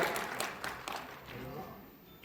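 An audience at a rural bank outreach program in Bihar applauds to welcome a public representative, with soft, fairly distant clapping that fades as a voice speaks over it.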